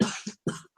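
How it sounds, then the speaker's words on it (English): Two short, sharp coughs in quick succession, close and dry, with a brief pause between them. "Let's play the coughing game."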